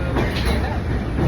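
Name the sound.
train departing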